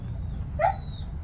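A dog gives a single short whimpering yelp, a brief high whine over a low background hum, moderately close with no talking.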